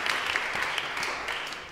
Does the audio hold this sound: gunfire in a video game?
no